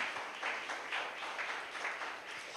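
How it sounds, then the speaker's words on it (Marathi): Church congregation applauding to thank God, a dense sustained clapping from many hands with rhythmic surges, moderately loud and steady for the whole stretch with no voices over it. "टाळ्या वाजून त्या देवाला धन्यवाद द्या."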